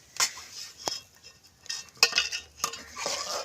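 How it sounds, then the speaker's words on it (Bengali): Milk being stirred in a pot to cool it, with a few separate scraping and clinking strokes of a spoon against metal, spaced irregularly and fairly close, no voices. "নাড়াচাড়া দিয়ে ঠান্ডা করতে হবে"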